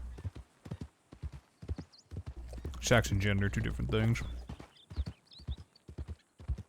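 Horse hooves clip-clop in a steady rhythm in the video game Red Dead Redemption, loud and close, with someone talking over the middle stretch.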